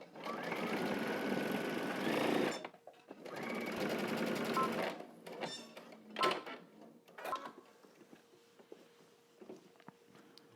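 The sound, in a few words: sewing machine back stitching fabric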